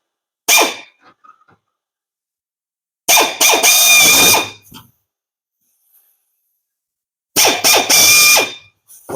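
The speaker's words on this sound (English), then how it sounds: "I'm going to take a drill and just drill a small hole right at the end of where the rip is" A power drill bores a small hole at the end of a rip in a Sportspal canoe, sounding in three loud, close bursts of whining, grinding drilling separated by silent pauses, with no talking.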